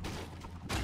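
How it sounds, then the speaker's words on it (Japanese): Gunfire in the Fortnite video game comes from behind the player: a muffled, fairly distant rattle of shots, ending in a louder burst, with no talk. "後ろから聞こえた銃声が。"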